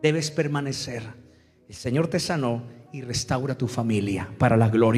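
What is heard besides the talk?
No everyday noise stands out behind the speech.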